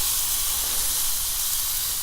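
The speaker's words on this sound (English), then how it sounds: "listen to that sizzle." A steady, bright hiss of chicken breasts sizzling on a hot grill, continuous and close, with no voices.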